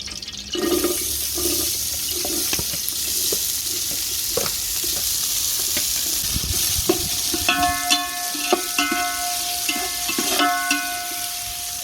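Sliced onions frying with cinnamon and cloves in oil for Chennai-style basmati biryani over a clay stove, a loud continuous sizzle and crackle with occasional stirring knocks throughout, no talk.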